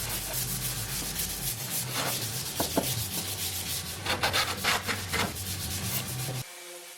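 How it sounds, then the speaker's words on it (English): A side rebate plane fitted with a dovetail fence cuts into wood in rough rasping strokes, several distinct passes close by over a low background hum that drops away at the end. "I'm just making my first few cuts with the dovetail fence on the side rebate plane"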